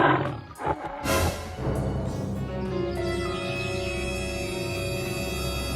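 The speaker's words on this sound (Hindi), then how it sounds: "एक बार बाघ हिरनों के झुंड पर हमला बोल देता है।" A tiger roars while attacking a herd of deer, the loud opening roar bursting out and then giving way to a sustained, layered growl that holds steady for several seconds.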